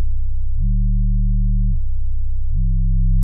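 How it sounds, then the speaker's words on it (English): Deep sub bass synth tone from Ableton Operator with glide on, holding a low note then sliding smoothly up to a higher pitch, dropping back and gliding up again; clean, sustained and loud with no other sounds. "this glide button will give a real natural feel to your sub bass"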